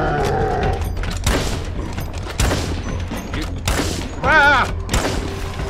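Grenade explosions in the zombie survival game State of Decay 2, several heavy thuds and booms mixed with game mechanics noise and a short shout.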